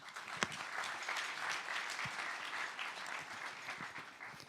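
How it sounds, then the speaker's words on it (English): A conference audience applauds steadily, a dense wash of clapping at moderate distance that holds for several seconds without voices. "Round of applause."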